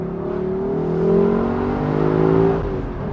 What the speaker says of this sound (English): It sounds nice and throaty, what you want from your V8.